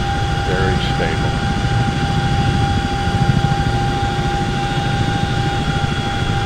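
A CH-47 helicopter in the X-Plane 11 flight simulator drones with a steady, loud engine and rotor hum that holds continuously throughout, with a few faint tonal chirps near the start.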